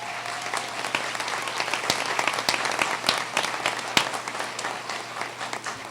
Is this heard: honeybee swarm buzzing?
no